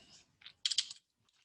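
Short commands typed on a computer keyboard during CAD drafting: a few quick, light key clicks in a brief cluster, close and quiet, followed by silence.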